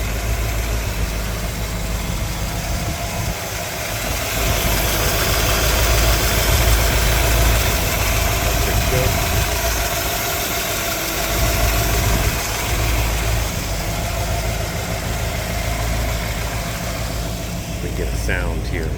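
A restored 1960 Chevrolet Impala engine turning over and settling into a steady, close idle rumble that swells after a few seconds, with someone talking over it.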